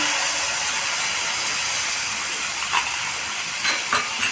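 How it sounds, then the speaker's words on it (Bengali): Asafoetida, green chili and ginger paste go into hot oil in a pan, producing a steady bright hiss and crackle, with a few soft clicks and scrapes near the end. "তেলটা গরম করে দিয়েছি এবার আমি একটু এখানে হিং দিয়ে দেব"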